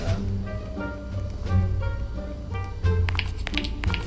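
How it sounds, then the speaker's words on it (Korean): A series of soft, rhythmic taps like footsteps from a Roblox prison-escape horror game, repeating steadily over a busy background of tones and clicks, with no talking. "발소리 아, 들리죠?"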